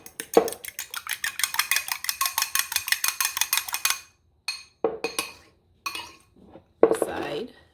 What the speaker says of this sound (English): next step is whisk 1 egg